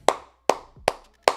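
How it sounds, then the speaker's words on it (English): Four sharp, evenly spaced hand claps ring out close and loud, about two per second, with silence between each. "we'll clap it up to Georgia"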